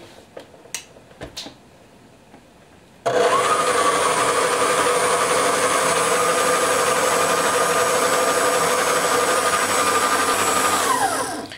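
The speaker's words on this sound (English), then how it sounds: "I'm going to use this attachment now to mix my dough" A stand mixer with an attachment mixes whole wheat bread dough, a few handling knocks and then a loud, steady motor whir with a sustained hum that runs without a break to the end.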